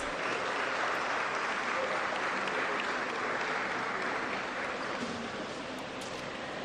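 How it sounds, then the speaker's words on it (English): Sustained applause from a conference audience at a New Year school event in Ghana, even and dense for several seconds, fairly distant and fading slightly toward the end, with no talk over it. "Please let's give her another round of applause."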